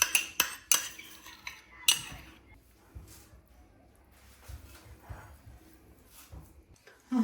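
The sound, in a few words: stirring mayonnaise into chicken filling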